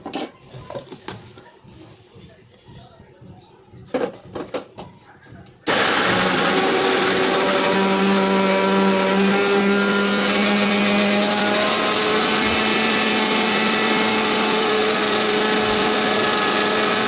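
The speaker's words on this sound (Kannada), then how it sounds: "ಪೈನಾಪಲ್ನ ಕಟ್ ಮಾಡಿ ಇಟ್ಕೊಂಡಿದ್ದೀನಿ ಅದನ್ನು ಸೊ ಇದೇ ಸಕ್ಕರೆ ಪೌಡ್ರ್ ಮಾಡಿರೋ ಜಾರಲ್ಲೇ ಹಾಕ್ಕೋತೀನಿ." Mixer grinder jar blending cut pineapple pieces in the same jar used for powdering sugar, starting abruptly after some quieter clatter and then running as a steady loud, continuous whir with a humming motor tone to the end.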